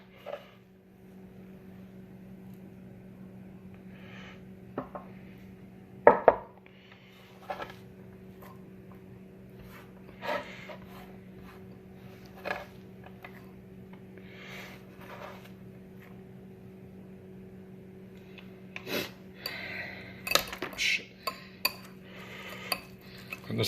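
Minced ginger sauce ingredients being mixed in a bowl for an air fryer wild duck recipe; sparse, quiet clinks and scrapes of a utensil against the bowl over a faint steady hum, with a few louder knocks.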